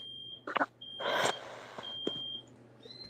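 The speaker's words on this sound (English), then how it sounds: "That loud beeping hurting my ears." A loud electronic alarm beeps in sustained high tones that stop and restart, broken by brief clatter and shuffling indoors.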